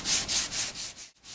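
Rhythmic back-and-forth rubbing of 150 grit sandpaper over glazing filler on an auto body panel, loud and close, with several strokes and a brief pause near the end.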